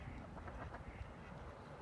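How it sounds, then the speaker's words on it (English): Faint honking of Canada geese carries through a noisy outdoor background, the calls blending together rather than standing out clearly. "here comes some Canadian geese"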